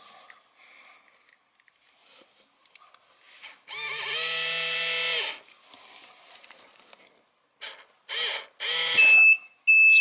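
Small DC gear motors of a Makerfire robot car chassis kit whine in a loud steady burst lasting about a second and a half, then several shorter spin-ups follow, with faint handling noise between them.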